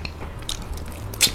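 Brief crisp crunches from biting into crispy fried spicy chicken wings, close to the microphone, with a louder crackling bite near the end.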